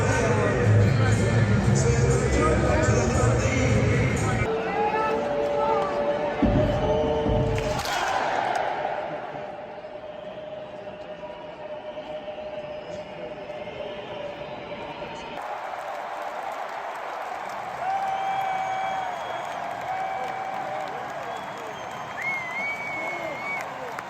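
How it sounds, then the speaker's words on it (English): A stadium crowd at Lumen Field cheering after a Sounders win: loud roaring and applause for several seconds, then a quieter, distant crowd murmur with people talking over it. "The crowd was electric."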